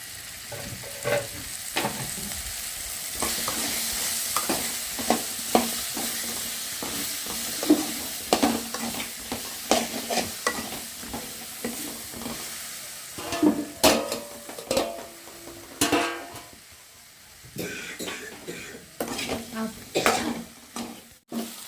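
Okra frying in oil in a pan, stirred with a utensil: steady sizzle under repeated scraping and clinking strokes, close and fairly loud throughout, with no talking.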